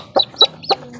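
Three short clucks from a hen with newly hatched chicks, in quick succession, close and fairly loud, with faint background noise.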